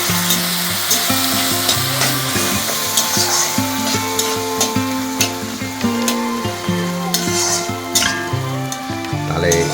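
Pabda fish curry sizzles and fries in a pan, with a continuous close crackle and scattered stirring scrapes throughout, under faint background music.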